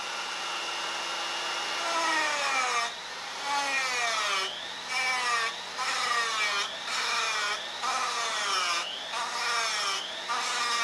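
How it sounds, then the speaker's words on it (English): A sanding drum hollows out a wooden piece, its motor whining steadily while the pitch repeatedly dips and recovers in short bursts as the drum bites into the wood, loud and close with no talking. "using a drum like this, it leaves a nice radius around all the corners"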